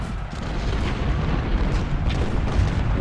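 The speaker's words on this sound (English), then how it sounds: "We've got enemy artillery blasting away at our positions in the woods" Enemy artillery firing on positions in the woods during the Battle of Malvern Hill in the Civil War strategy game Ultimate General, a continuous rumbling roar of booming cannon blasts, dense and heavy throughout with no talk.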